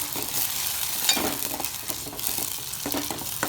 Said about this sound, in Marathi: तर त्यात आपण हे लाल मिरचीचं आपण वाटण छान परतून घ्यायचं आहे.